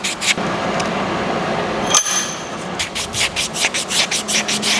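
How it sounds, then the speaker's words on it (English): Abrasive rubbing on metal parts of a CX500 motorcycle, a harsh continuous scraping that turns into quick rhythmic back-and-forth strokes in the second half, close and loud. "Grind it flat and put it back"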